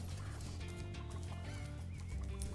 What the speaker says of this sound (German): Die schießen einfach die Hühner ab.